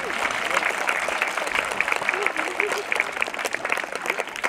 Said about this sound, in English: Let's have a nice round of applause for the staff members at both schools,